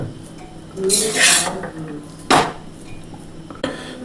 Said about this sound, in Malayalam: ഇതിലേക്ക് നമുക്ക് ചോറ് പകരണം നമ്മുടെ ചോറ് വറ്റിച്ചെടുത്തിട്ടുള്ളതാണിത്